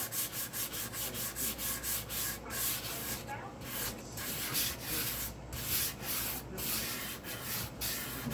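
Sandpaper rubbing over the wooden body of a J Bass guitar, prepping it for dye, in steady back-and-forth strokes with a regular rhythm, close and moderately loud.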